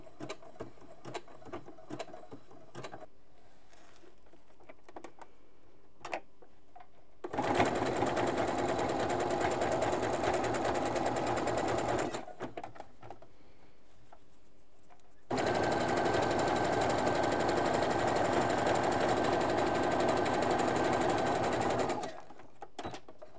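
Sewing machine stitching a backstitch to secure the seam on a shaping pin-up brief, running in two steady bursts of rapid, even needle clatter separated by short pauses, close and loud.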